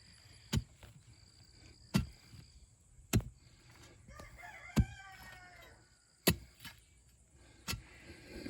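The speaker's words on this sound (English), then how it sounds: "Our big rooster's over here crowing." A big rooster crows outdoors at a moderate distance, one drawn-out crow midway, while sharp intermittent knocks or clacks punctuate the otherwise quiet scene roughly every second or so.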